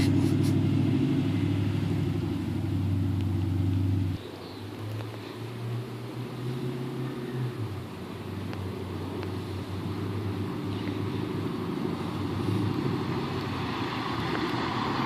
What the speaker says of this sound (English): Driving that goddamn truck